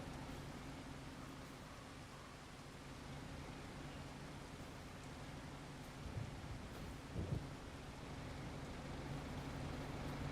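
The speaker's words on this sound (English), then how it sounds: "Hey, the rain stopped." Steady rain falling in the farming game Farming Simulator 25, a continuous broadband hiss with low rumbling undertones and a couple of brief thumps, no talking.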